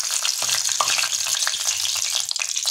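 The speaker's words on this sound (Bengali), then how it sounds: "প্রথমে আমরা এই গরম তেলের মধ্যে ফোড়নে যোগ করব তেজপাতা" Bay leaf and dry red chilli crackle as they temper in hot oil, a close, steady sizzle with sharp pops and occasional stirring, with no voices.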